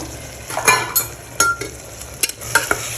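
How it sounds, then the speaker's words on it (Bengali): Chili powder frying in a spice mixture, with a low sizzle broken by repeated scraping and clinking spoon strokes against the pan. "লঙ্কার গুঁড়োটা দিব এটা ভেজে নিব"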